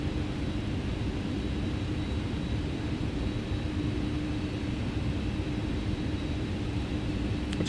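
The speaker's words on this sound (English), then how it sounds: "APU spooling up." MD-11 auxiliary power unit spooling up in X-Plane 11, a steady, loud turbine whoosh and broadband roar with a faint high tone, continuous and close, with no voices.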